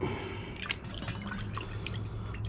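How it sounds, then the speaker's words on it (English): Water drips and trickles quietly from cooked razor clams as they drain after a cooling bath, a soft, close patter of scattered drops with no voices. "Now I'm taking them out of the cooling water, kind of draining them."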